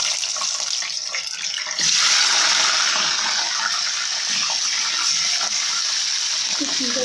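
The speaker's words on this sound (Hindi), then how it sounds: "छींटे बहुत ज़्यादा हो रहे हैं इसलिए हम इसका लिड लगा देंगे" Chicken frying in about a cup of hot oil for shahi karahi gives a loud, continuous hiss and spatter that swells after a brief quieter start, with faint clatter near the end.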